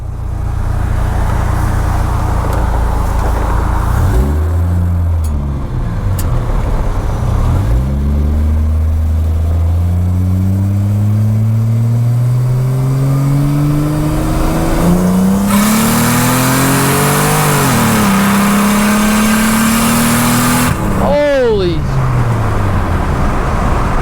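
A 2JZ-swapped Mercedes W124 revs hard while driving, its engine note climbing steadily through the gears with sharp shifts, a loud continuous roar and a brief high squeal near the end.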